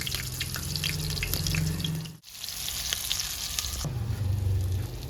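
Pointed gourd, potato and chickpeas fry in a pan with a steady hissing sizzle, close and fairly loud, broken by a brief drop near the middle before the crackle resumes.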